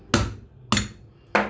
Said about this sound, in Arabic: واجيب الشاكوش وادقه كده اهوت